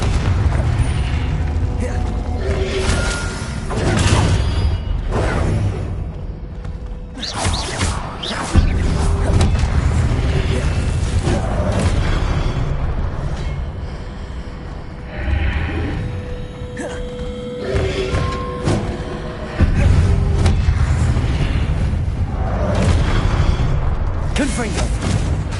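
Confringo fire spells and other combat magic blasting in Hogwarts Legacy, a dense run of loud booming impacts and rumbling mechanical effects across the whole stretch, with a voice talking over the action.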